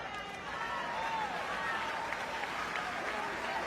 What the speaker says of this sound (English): We should applaud that and celebrate that.